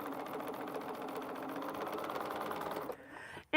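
A Bernina sewing machine stitches quilt pieces in a steady, fast mechanical whir that runs evenly for about three seconds, then stops abruptly, followed by a brief sharp clatter at the end.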